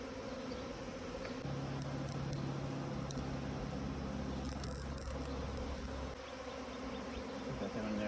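Honey bees from two bee packages hum and buzz steadily while being installed in a hive, with a droning tone joined partway through by a closer, louder buzzing bee; no one speaks.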